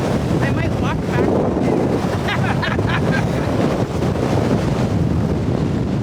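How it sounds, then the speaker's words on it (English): Strong, gusting wind buffets a trawler boat on rough Lake Erie, a loud continuous roar of wind and churning water with no break. "36 knots of wind gusts was just way too much for our comfort level."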